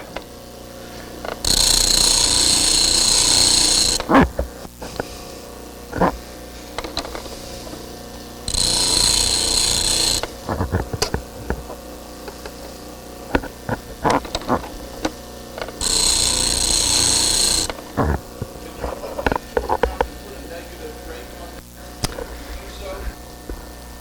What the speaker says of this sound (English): I'm grinding on that sharp edge where the heat will get in and damage it.